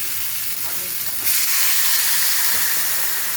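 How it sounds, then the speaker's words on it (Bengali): Water poured into a hot pan of vegetables cooking for a squash dalna sets off a sudden loud, steady steaming hiss about a second in, following a quieter sizzle. "এখন আমি জল দিয়ে দেবো"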